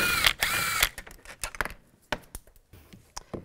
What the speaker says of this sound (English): Now take this bolt out. Use a 10 millimeter socket.